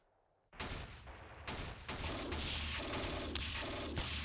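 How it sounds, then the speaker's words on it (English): Infantry fire back in the Steel Panthers WWII strategy game. After a short quiet moment a loud, dense volley of gunfire breaks in, with several sharp bursts that blend into a sustained crackling roar, and there is no talking. "Okay, they caused some suppression there. Let's see, let's fire back."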